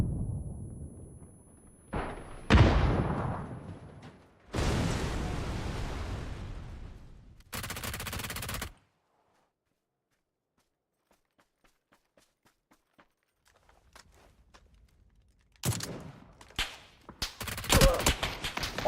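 Gunfire in the battle royale game PUBG arrives in loud, sharp broadband bursts, including a long volley and several short clusters, separated by a near-silent stretch with faint ticking before more rapid shots close in.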